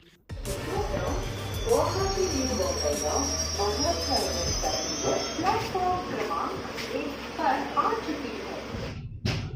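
A train in Assam rumbles steadily along the rails with faint metallic squeals, a continuous close, loud drone that stops abruptly at the end.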